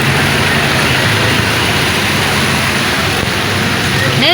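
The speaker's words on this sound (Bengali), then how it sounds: "বৃষ্টি পড়ছে" Rain falling hard at night, a loud, continuous wash of noise that stays even from start to finish, with a brief tonal sound near the end and no speech.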